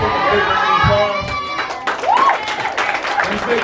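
Lively applause and cheering for kindergarten graduates at a school graduation ceremony, with a crowd of clapping, excited shouts and children's voices ringing out close by, rising and falling in bursts.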